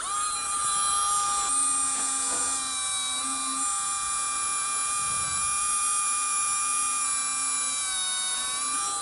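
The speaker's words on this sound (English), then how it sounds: "we're gonna drill the 2 small holes for the fishing wire right now" A high, steady whine of a small power drill boring small holes in a 2022 Subaru WRX headlight, running continuously, close up, with a faint low hum underneath.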